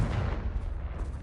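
A Confringo spell blast in the video game Hogwarts Legacy, a brief loud booming burst like artillery fire with a rumbling low tail, heard alone.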